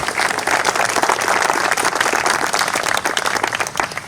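Crowd at an outdoor-style community anniversary celebration for Prospect Terrace breaks into loud, sustained applause, many hands clapping densely and close, fading slightly toward the end.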